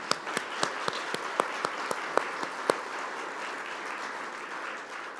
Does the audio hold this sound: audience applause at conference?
yes